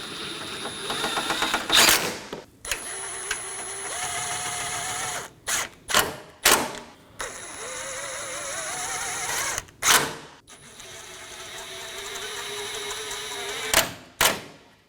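A ratchet snugs down 10mm and 8mm crossbar bolts on a 2011 or later Dodge Durango 5.7L V8. It gives short, loud bursts of clicking separated by pauses, with a faint whine between strokes.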